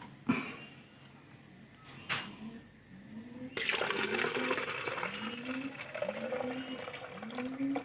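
Water running into an artemia culture container, starting with a couple of thumps and then a steady gushing flow that fills the container, close and continuous, with a repeating rising gurgle.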